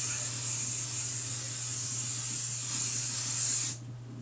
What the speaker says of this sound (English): I just give it another spray.